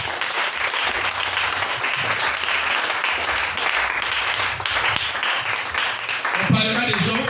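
Church congregation applauding in worship, a dense sustained wash of clapping from many hands filling the room steadily from start to finish, with crowd voices faintly mixed in.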